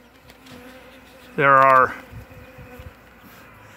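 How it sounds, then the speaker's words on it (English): A bee swarm buzzing outdoors in wet, cold weather, with a low steady hum underneath and one loud, close, half-second buzz as a bee passes near; a voice speaks briefly. "We have activity all around the swarm. And there are less bees."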